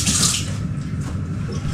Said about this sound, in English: a quick sluice of the hand.